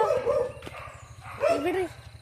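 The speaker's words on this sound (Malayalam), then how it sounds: "ഇവിടെ കുരയ്ക്കുന്നത് നമ്മുടെ ഷാഡോ കുട്ടപ്പായി, അപ്പുറത്ത് കുരയ്ക്കുന്നത് നമ്മുടെ കുഴി" Pet dogs barking at a family home garden, a couple of short yapping barks close by mixed with a person talking over them.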